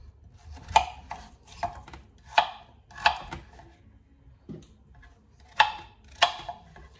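A knife chops potatoes into large chunks on a cutting board for slow-cooker turkey leg with vegetables. About eight close, sharp, evenly spaced chops ring out alone, with a short pause midway.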